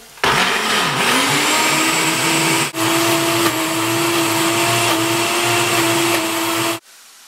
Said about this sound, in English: And then just puree that until there's a coarse mixture.